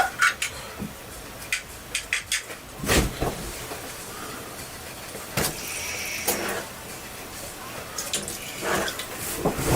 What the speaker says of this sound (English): pour some of this water out real quick.